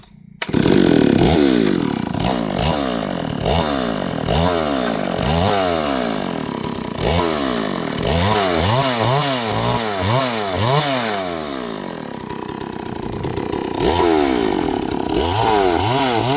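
A chainsaw cuts wood during a home extension build, running loud and close with repeated revving surges as the blade bites and eases off, steady and uninterrupted throughout.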